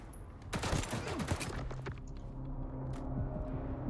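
Gunshots in S.T.A.L.K.E.R. 2: Heart of Chornobyl, a dense burst of sharp close reports in the first two seconds, then scattered fainter shots over a steady game ambience.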